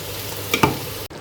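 A steady sizzle of goat meat frying in a pan, with a couple of quick stirring scrapes; no talking.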